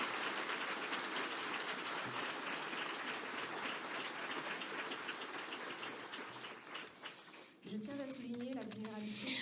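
Forum audience applauding in a hall, a sustained wash of many hands clapping at moderate distance that thins toward the end, where a voice begins speaking over the fading claps.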